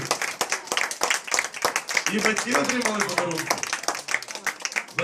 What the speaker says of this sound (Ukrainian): Давайте ще раз їм поаплодуємо